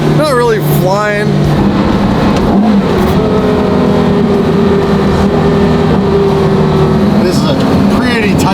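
Ferrari F12 twin turbo driving a tight, twisty road in low gear, its engine droning loudly and steadily with rising and falling revs through the bends, while people talk over it inside the car.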